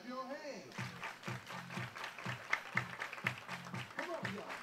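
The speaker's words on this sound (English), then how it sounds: "Everybody clap your hands." A crowd at a college baseball game claps in a steady rhythmic beat while an announcer speaks over it, the clapping moderately loud and even.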